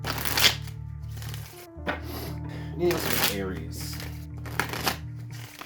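Oracle cards shuffled by hand during a tarot reading, a run of soft riffling and flicking bursts under a steady low hum and a voice speaking over the shuffle.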